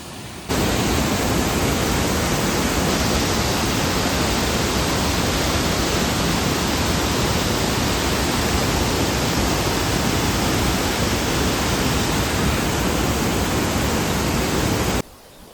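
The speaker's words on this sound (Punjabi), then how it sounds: "ਇਸ ਟਾਈਮ ਆਪਾਂ ਖੜੇ ਆ ਇਹ ਵਾਲੇ ਝਰਨੇ ਦੇ ਥੱਲੇ" Steady, loud rush of a waterfall on the Churdhar trek in Himachal, heard standing right beneath the falls, a dense continuous roar of falling water that fills the whole stretch evenly with no voices over it.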